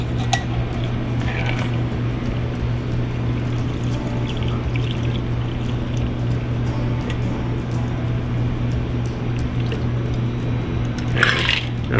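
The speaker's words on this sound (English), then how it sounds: "So I am gonna strain it" A mint cocktail strains into a glass as a steady, close pour of liquid over a low hum, ending with a brief clink of ice or glassware near the end.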